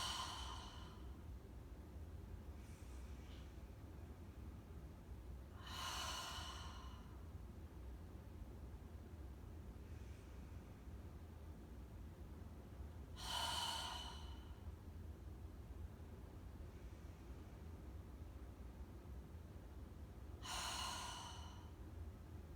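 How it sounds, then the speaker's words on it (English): A deep breathing exercise with slow, faint inhales through the nose and four long, breathy exhales blown out at regular intervals, with no talking. "inhale through the nose. Exhale, blow it out, squeeze the belly in"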